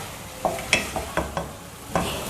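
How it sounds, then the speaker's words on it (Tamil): Grated coconut mixed into sambar vegetables in a pan: a run of distinct scraping, tapping strokes from a ladle, each a quick burst, over a low sizzle close to the listener. "நம்ம துருவி வச்ச தேங்காய் இது போட்டுடணும். போட்டு இதையும் நல்லா கலந்துடலாங்க."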